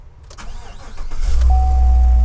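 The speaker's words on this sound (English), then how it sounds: "So let's see if it'll crank." A Chevrolet Silverado, previously stuck on a no-crank theft deterrent fault, cranks briefly with a rapid starter chatter, then catches and settles into a loud, steady idle, close by with no talking.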